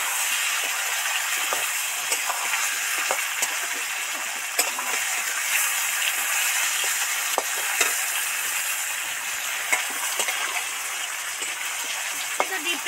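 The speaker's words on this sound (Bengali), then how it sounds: "ডিপ ফ্রাই হয়ে ভাজা হতে থাকছে।" Potatoes, onions and tomatoes fry in oil while being stirred for a village-style katla fish curry, a dense, steady hiss broken by scattered scraping clicks, close up and without talk.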